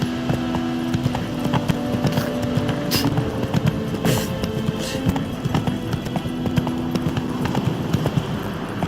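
Hooves of Roach, the horse in The Witcher 3, clop in a steady, continuous rhythm against layered game ambience, fairly close and even in loudness throughout.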